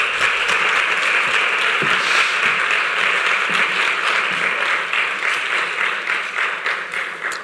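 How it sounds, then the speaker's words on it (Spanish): Steady, loud applause from a sizable conference audience, continuous clapping that fills the room and slowly tapers near the end. "Un fuerte aplauso para Javier y cuando quiera."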